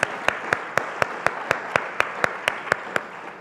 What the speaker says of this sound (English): can we please give a round of applause to Lindsay, Juliana, and Katie for hosting this